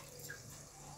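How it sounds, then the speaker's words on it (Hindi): Water from a glass poured into a clay cooking pot set on a gas flame, a steady, continuous splashing pour heard up close for a brief moment with no voices. "और इसमें एक गिलास पानी डालना।"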